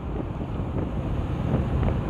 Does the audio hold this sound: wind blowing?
yes